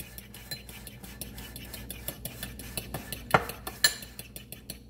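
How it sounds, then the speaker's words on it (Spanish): A single egg beaten with a fork in a bowl, quick regular clinks and taps of metal on the dish in a close, steady rhythm with faint swishing between strokes. "vamos a coger con el tenedor y vamos a batir nuestro huevo"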